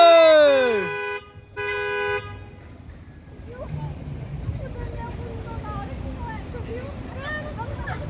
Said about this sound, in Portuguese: Olha o Daniel aí chegando buzinando.